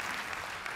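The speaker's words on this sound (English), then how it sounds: "I'd like to hear that round of applause one more time" Conference audience applauding at a tech panel in Paris, a steady, dense wash of clapping filling the short moment without pause.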